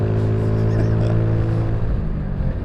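A 2021 Mutt Mongrel motorcycle of about 20 horsepower runs close and loud during clutchless gear changes, its engine droning steadily with a slight dip in pitch toward the end.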